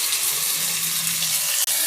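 A tumbler of boiled mutton water poured into a pan of sautéing onions, ginger-garlic paste and meat for a Chettinad-style mutton potato fry, a steady close splashing rush with a faint sizzle underneath.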